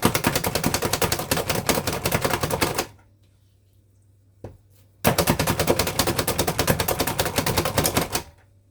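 A Cuisinart electric handheld chopper chopping garlic whirs in two loud bursts of rapid clattering chopping, separated by a few seconds of near silence with a faint click.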